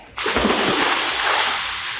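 A doll drops into water with a sudden close splash, then a brief slosh and bubbling that fades over a couple of seconds, with no talking.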